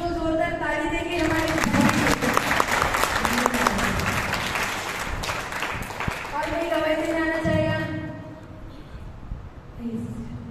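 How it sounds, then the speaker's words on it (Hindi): A congregation at a residential church retreat in Namkum, Ranchi claps loudly and steadily for several seconds, with scattered cheers, while a voice speaks over it in Hindi; the applause fades toward the end as speech continues. "क्या आप यीशु को जोरदार ताली देंगे?"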